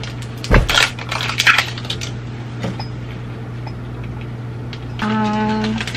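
Small dice rattle and clatter inside a hollow toy container, with bursts of clicking hits, a few scattered taps, and a faint hum underneath, close to the microphone.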